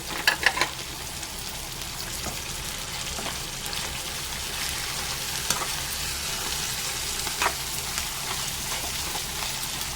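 A pulihora (tamarind rice) tempering fries in a pan with a steady close sizzle, a few sharp clicks and stirring scrapes near the start, and no voices.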